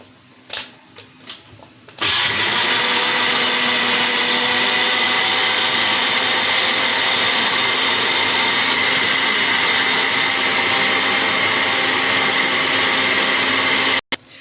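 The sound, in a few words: electric mixer beating eggs, oil, vanilla and milk for cake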